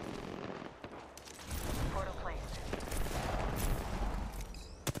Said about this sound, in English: I'm shooting the third parties